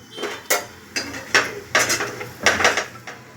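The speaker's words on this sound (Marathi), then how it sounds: "झाकण काढते बघा" A lid comes off a cooking pan while a dosa-batter breakfast cooks, giving a close series of metallic clanks and scrapes in uneven bursts with no speech.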